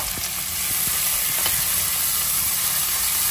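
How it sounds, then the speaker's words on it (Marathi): Chopped onion with cumin and mustard seeds sizzles steadily in oil inside a pressure cooker, a loud continuous frying hiss with faint occasional crackles and a tap or two, no voices. "मग त्यात टाकलं जिरे मोहरी आणि मग टाकला कांदा आणि तो छान परतवून घेतला."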